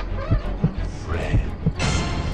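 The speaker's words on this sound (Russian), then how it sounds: "Сердцебиение, как в Dead by Daylight." Heartbeat effect in the horror game Freaky Clown Town Mystery, a series of soft low thumps in pairs over a steady game hum with other noises around it.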